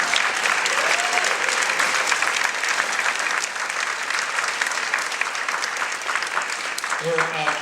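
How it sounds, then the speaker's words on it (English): An audience at the LA Drama Critics Circle Awards ceremony breaks into sustained applause, dense clapping filling the room throughout, with a voice starting to speak as it ends. "they deserve a round of applause"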